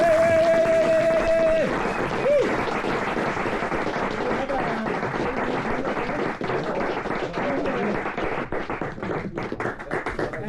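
Applause for Lars Bjørn at a match debriefing, rapid dense clapping from a close group that starts after a short tone and continues steadily, with voices mixed in.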